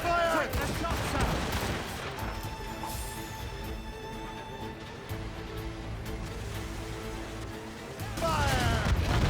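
Naval cannon broadside in Assassin's Creed Rogue: heavy rolling volleys open and close the stretch, with a lower rumble and voices in between.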